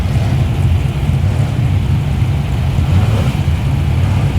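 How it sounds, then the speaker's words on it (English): A muscle car engine idles with a lumpy, uneven rumble at a street cruise, a steady loud low throb that holds throughout without talk. "Nice lumpy idle to it as well."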